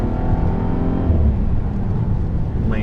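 A 2018 VW Passat GT accelerates through a slalom, its engine a steady, loud drone heard from inside the car with no talking.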